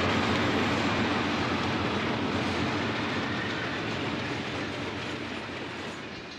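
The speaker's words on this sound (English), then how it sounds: "This is one of the 9 SW1500 EMD switchers that were bought in 1966 and 1967." An EMD SW1500 switcher locomotive train rolls past with a dense, continuous rumble and rattling wheel clatter, loud and close, slowly fading slightly toward the end.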